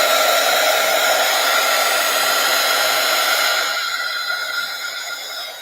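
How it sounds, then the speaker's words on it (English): A heat gun blows a loud, steady whooshing roar close up while drying craft paint, running continuously and easing slightly toward the end, with no voices. "Wonder if I should hit that with the heat gun. Let's just dry it a little bit."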